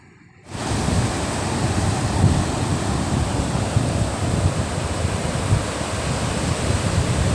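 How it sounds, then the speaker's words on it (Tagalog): Sea waves washing along a shallow shore during low-tide shell gathering, a loud continuous roar of surf that starts abruptly and holds steady, with no voices. "Ilihok na gid ang tubig oh. Usog na ang balod."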